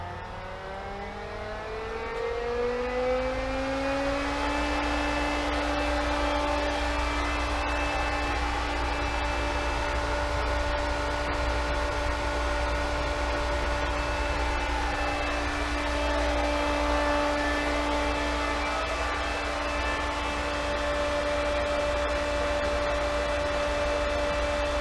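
A pool pump plumbed with a single 2-inch pipe spins up and then runs as a steady, loud motor hum with a rising whine that settles into a constant drone.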